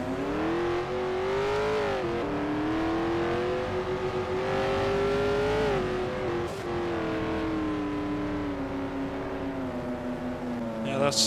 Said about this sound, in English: That looks and sounds like an engine issue.